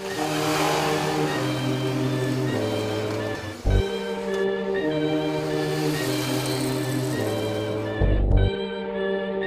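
Two naked motorcycles, a Kawasaki ER6N and a Yamaha MT-07, ride on the road with a steady engine drone and clear gear-shift steps as the revs climb and drop, close and loud.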